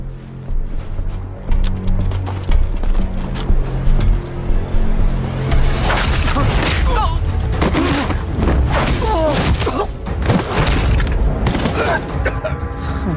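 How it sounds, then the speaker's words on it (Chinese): Gunfire rings out in a Chinese martial arts drama, a dense burst of sharp cracks and impacts following tense lines of dialogue, loud and chaotic through the second half. "就开枪。"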